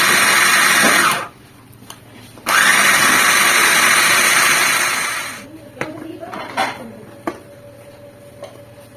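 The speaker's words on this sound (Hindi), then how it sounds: "और साथ में अदरक और लहसुन एक साथ हम डाल देंगे। चॉप करेंगे इसको हम।" An electric food chopper whirs loudly as it chops ginger and garlic with radish leaves for chutney, running in two steady bursts separated by a short pause, then stopping, followed by light kitchen knocks.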